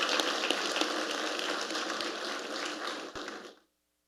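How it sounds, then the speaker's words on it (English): An audience applauds a production team at an anniversary panel evening, giving dense, steady clapping that fills the room for about three and a half seconds before stopping abruptly. "A round of applause for them, please."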